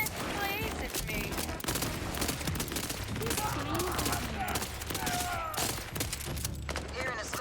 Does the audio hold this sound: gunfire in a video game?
yes